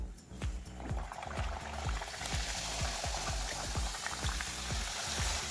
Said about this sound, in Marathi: आता ह्या पुऱ्या आपल्याला तळून घ्यायच्या आहेत।